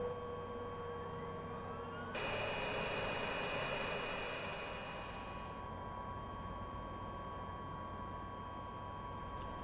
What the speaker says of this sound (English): we can restart the engines and take off again.